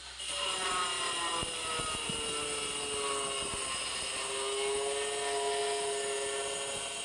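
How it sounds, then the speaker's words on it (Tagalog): An angle grinder cuts floor tiles at a small house build site, giving a loud, steady high-pitched whine that holds for the whole stretch, with faint clicks and knocks beneath it. "Medyo may kaingayan po yung ating grinder"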